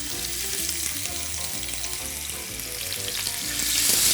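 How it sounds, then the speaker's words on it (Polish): Beef tenderloin skewers seasoned with salt and freshly ground black pepper sizzle in very hot oil over a burner, a loud continuous crackle and spit that swells toward the end, with no voices. "A szaszłyki właśnie teraz traktujemy solą i pieprzem świeżo zmielonym czarnym i kładziemy na mocno rozgrzany olej."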